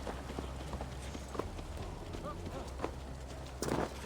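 Horse hooves clip-clop in the Assassin's Creed Valhalla video game, a faint irregular patter of steps under a steady low ambient rumble with a brief louder burst near the end.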